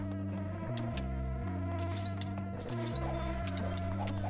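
Buzzing vespids, flying insect mobs in the RLCraft video game, drone in a continuous steady hum that shifts between a few stepped pitches, close and fairly loud with no talk.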